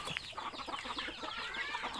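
Chickens being raised on a farm cluck in a busy, overlapping stream of short calls, close and fairly loud with no talk.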